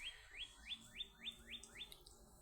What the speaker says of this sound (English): But the bird was singing so sweetly.